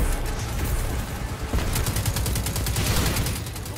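Rapid gunfire from Destiny 2, loud bursts of automatic shots blending into a dense barrage of repeated cracks, with the firing growing more rhythmic and distinct toward the end.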